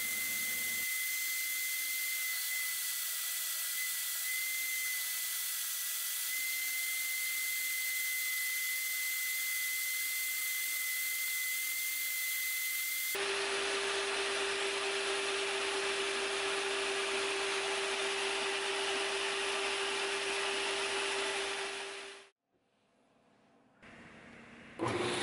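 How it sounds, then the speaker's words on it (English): A belt grinder with a coarse 36 grit belt shapes wooden knife handle scales, giving a loud, continuous abrasive whir with a sustained motor tone that shifts pitch midway as the wood is pressed, then cuts off near the end. "Now I use a 36 grit belt to do a lot of the shaping on this"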